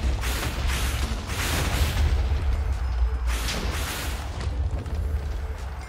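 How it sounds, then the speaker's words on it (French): Repeated booming explosions from the Minecraft Stoneblock modpack, with dragons involved, sound in loud, harsh bursts over a deep continuous rumble, several blasts spaced a second or so apart with no talking. "Ah, mais c'est son explosion en fait qui casse l'oreille."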